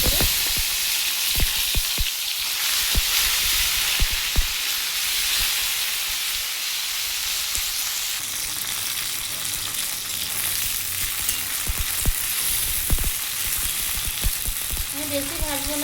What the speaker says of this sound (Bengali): আমি এবার এই তেলেই ভেন্ডি মানে ভেন্ডি বা ঢ্যাঁড়সটা আমি একটু ভেজে